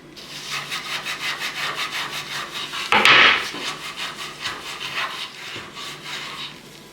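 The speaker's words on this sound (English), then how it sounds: "I scrub everything down with steel wool and follow up with a little bit of metal polish to bring out some shine." Steel wool rubs back and forth over metal drawer hardware from a mid-century modern piece, a steady rhythmic scratchy scrubbing heard close up, with a brief louder scrape near the middle and no voices.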